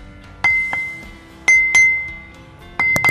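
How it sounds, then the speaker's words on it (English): A silicon carbide grinding wheel is tapped four or five times during a ring test, each tap giving a bright, clear ring that lingers and decays. No other sound competes, and the strikes come close and loud at uneven intervals. "You can clearly hear the ring when we tap this wheel"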